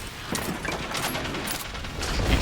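Rapid gunfire in Destiny 2, a dense continuous stream of shots filling the whole stretch at steady loudness, with no voice over it.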